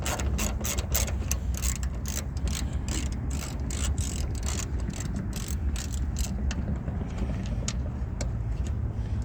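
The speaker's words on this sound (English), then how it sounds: "Only tool you'll need is a ratchet of some sort with a 10mm socket" A ratchet with a 10mm socket removing a plastic screw on a 2007 Mini Cooper, fast continuous clicking of the pawl up close, steady and unbroken at first and thinning toward the end.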